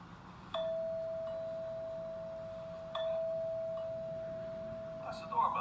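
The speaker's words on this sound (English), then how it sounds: "That's the doorbell." A two-tone electronic doorbell chime rings twice, each tone sustained and fading slowly, fairly clear in a quiet room.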